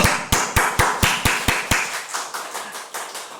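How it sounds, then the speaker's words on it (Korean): Evenly spaced hand claps from a church service congregation beat out a steady rhythm, sharp and close at first, then softening and trailing off. "자, 예수님한테 박수 한번 합시다"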